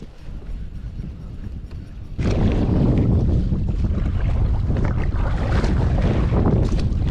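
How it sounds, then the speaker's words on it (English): Wind gusting hard around a Vibe Yellowfin 100 kayak on open water, a steady low roar and buffeting that jumps suddenly louder partway through and stays strong, with no talk. "the wind has got to pick up the second I make that decision"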